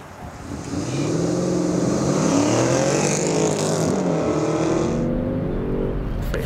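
A large SUV, either a Range Rover Velar or a Porsche Cayenne GTS, revs on a test track. The engine note swells and climbs through rising and falling tones, loud and close, then eases off with no speech.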